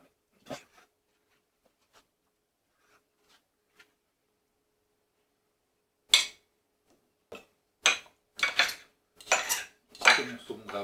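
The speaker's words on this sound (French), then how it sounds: "raclez-le bien pour retirer le sel" Knife scraping salt off cured gravlax salmon, a few faint taps at first, then a series of short, close scraping strokes in quick bursts.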